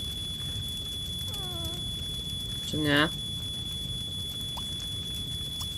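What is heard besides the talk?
smoke alarm going off in The Sims 3 video game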